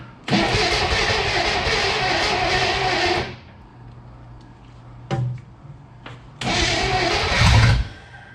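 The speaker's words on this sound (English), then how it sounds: "Starter doesn't sound that good either." A 1967 Chevrolet Impala's weak starter, after 16 years abandoned, cranks in two long grinding bursts, separated by a pause with a couple of clunks.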